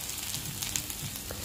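Masala spices (cumin powder, garam masala, red chili powder, salt) frying in oil in a pan, a soft continuous sizzle with faint crackles, close and steady, with no talk over it.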